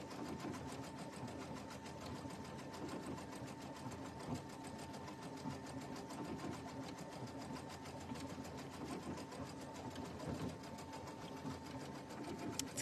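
A sewing machine runs steadily, stitching fabric for a chair cover with a fast, even mechanical whir and rattle that holds at a constant moderate level from start to finish, with no voices.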